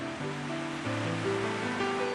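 The great waterfall of Nachi in Japan gives a steady, unbroken roar of falling water, heard at a distance with sustained music tones layered over it.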